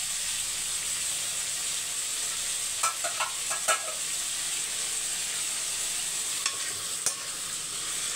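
Tomatoes and curry leaves fry in a pan with a steady, close sizzling hiss, broken by a few light scraping clicks from stirring, and no one talks.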